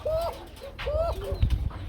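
Kuka pigeons coo up close in short, throaty repeated calls, a few rising-falling phrases in quick succession with faint background rustle and no voices.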